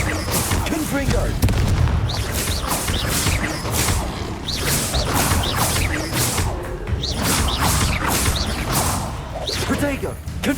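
Repeated Confringo blasting-spell explosions in the Hogwarts Legacy video game, a dense run of loud booming bursts and whooshes layered over continuous combat noise, alone and close.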